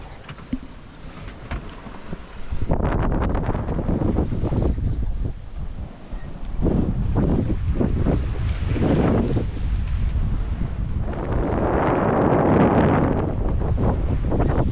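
Strong wind buffets the microphone aboard a 1992 29-foot sailboat under way solo at sea, a steady loud roar with gusting surges and water wash, no voices.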